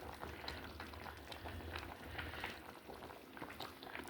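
Fish curry bubbling in a rice cooker as the fish is added on top, a faint steady simmer of small popping bubbles and soft liquid crackle, continuous and close.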